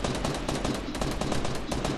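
Rapid gunfire crackles continuously in a Fortnite match as players shoot at an enemy sky base, a dense, steady stream of shots with no pauses over the short stretch.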